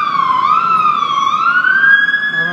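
An FDNY fire engine on the Upper West Side of New York City sounds a loud, steady wailing siren that sweeps slowly up and down, close by and continuous, with no talk over it.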